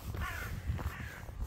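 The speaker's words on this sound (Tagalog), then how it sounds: "Mga ibon." Crows cawing in a snowy, icy Norwegian setting, several harsh caws overlapping against a steady low rumble, fairly loud and continuous with no talking.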